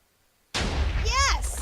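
A cannon fires in a video game: silence, then a sudden loud blast with a rumbling boom that sustains, followed by a descending whistling tone and a short bright burst at the end.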